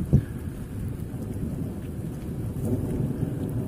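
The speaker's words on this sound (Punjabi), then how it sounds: "ਬਹੁਤ ਤੇਜ਼ ਬਾਰਿਸ਼ ਹੋ ਰਹੀ ਹੈ ਹੁਣ ਵੀ ਲਗਾਤਾਰ ਬਾਰਿਸ਼ ਚੱਲੀ ਹੋਈ ਹੈ" Heavy, steady rain pours down in Sri Anandpur Sahib, Punjab, with a low rumble of thunder near the start, a dense continuous wash with no voices.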